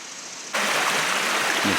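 Clear, several-feet-deep stream at Natural Bridge, Virginia, flowing with a steady close rushing babble that swells in abruptly after a quiet start.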